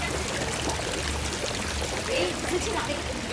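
Waterfalls rush in a steady, broad roar, continuous and fairly loud, with occasional faint sounds above the flow, at a restaurant.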